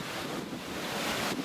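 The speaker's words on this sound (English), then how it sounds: "A bit windy." Steady wind at Heron Lake buffets the microphone with a low, roaring rumble, continuous and fairly loud for the whole moment, no voices.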